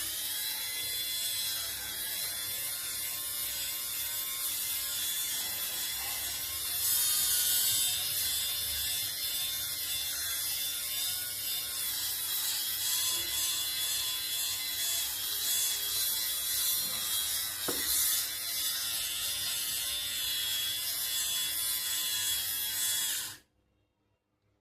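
Electric lint remover buzzing over children's shorts, a steady close whirring drone with rapid gritty chatter from the blades, holding for over twenty seconds before switching off abruptly.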